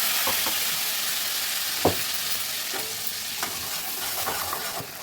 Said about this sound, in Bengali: প্রথমে আমি আদা রসুনের পেস্টটাকে তেলের মধ্যে দিয়ে দিলাম